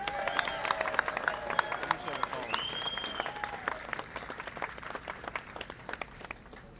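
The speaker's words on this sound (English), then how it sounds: "Let's do a big round of applause for that." Scattered audience clapping at a Hollywood Walk of Fame ceremony, fairly faint and distant, with voices and whoops mixed in over the claps.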